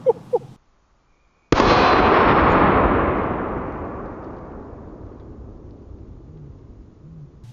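A single loud shotgun blast from a Triple Threat slug cracks out close by after brief silence, its boom rolling and decaying over several seconds; a few faint sounds precede it.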